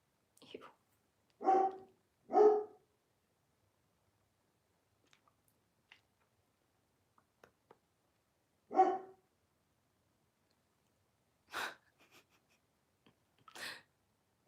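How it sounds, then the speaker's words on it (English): A pet dog barks indoors at a moderate distance, several short separate woofs spread across the clip with long quiet gaps between them and faint, soft sounds in the background. "Does my dog scare me sometimes? Like her barking?"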